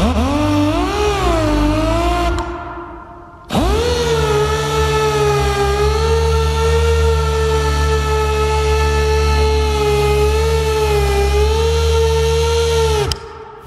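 A Rupes pneumatic polisher running at higher speed gives a loud, close, steady whine that dips briefly and then holds high and even for about ten seconds before cutting off.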